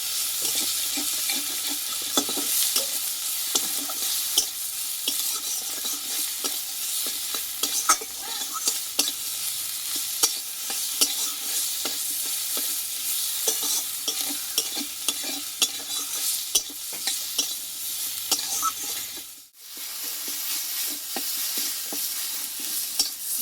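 Tomatoes sauté with spices in a pan, a continuous close sizzle with steady scraping and stirring of a spatula throughout, broken by one brief dip near the end, and no talking.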